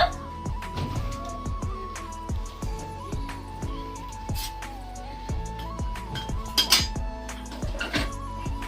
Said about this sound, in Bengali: তো কড়াই থেকে আমি গামলাতে ঢেলে নেব।